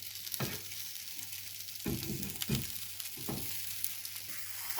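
A Korean rolled omelette fries in a pan with a steady close sizzle, broken by several soft tapping and shuffling knocks as it is turned and moved.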